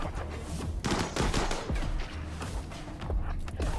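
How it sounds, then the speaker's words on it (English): Rapid video-game gunfire from mechs in a sci-fi battle on a dead planet, a dense, continuous clatter of shots and thuds with no pauses across the whole stretch. "it's best if there's a lot more gunfire coming off the Cataphracts"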